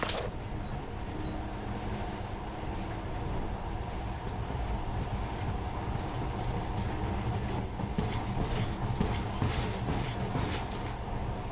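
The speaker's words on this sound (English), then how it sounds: "this monorail seems magic, doesn't it?" A monorail train in the post-apocalyptic game Metro Redux rolls along steadily, a continuous loud rumble with a low mechanical drone and faint rattling throughout, no voices over it.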